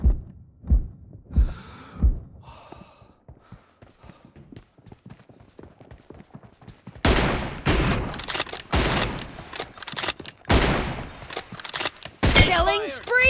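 M24 sniper rifle fire in PUBG Mobile team deathmatch, loud close shots with bursts of other gunfire, starting with a few sparse reports and then turning into dense, rapid volleys.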